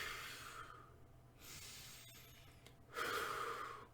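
Someone breathes slowly and audibly during meditation, with close, airy inhales and exhales, a long breath, a pause, then a louder breath near the end.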